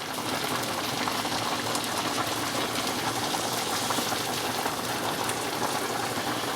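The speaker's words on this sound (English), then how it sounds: "Then what I like doing is adding about half a can of water." About half a can of water is poured into a pan of mushroom soup sauce for spaghetti and meatballs, a steady hissing, splashing wash that holds level throughout, with no talking.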